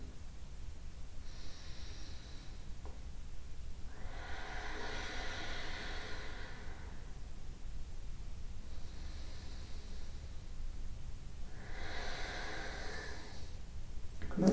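Deep yoga breaths come in slow, airy cycles of long inhales and exhales, two clear breaths separated by quiet pauses over a low steady background hum.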